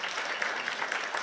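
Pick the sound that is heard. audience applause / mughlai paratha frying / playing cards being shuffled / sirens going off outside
audience applause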